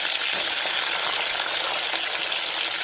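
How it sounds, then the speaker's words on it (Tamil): Shallots, garlic and green chillies fry in oil for a South Indian onion kuzhambu, giving a loud, even, unbroken sizzle close up with no voices over it. "எண்ணெயிலே சின்ன வெங்காயம், வெள்ளைப்பூடு, பச்சை மிளகாவை கொஞ்சம் நேரம் வதங்கி வரட்டும்"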